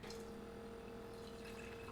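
Water pouring steadily from a 5 gallon jug through a replacement tube, a continuous close rushing flow with no talk.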